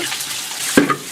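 Food frying in a pan in a rustic cave kitchen, a soft close sizzle with a brief clunk of stirring near the end.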